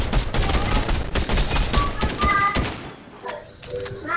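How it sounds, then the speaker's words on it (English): Rapid gunfire in a Fortnite trios match, loud dense bursts of shots in quick succession, followed by fainter in-game tones as the firing stops. "He's shooting at the bot."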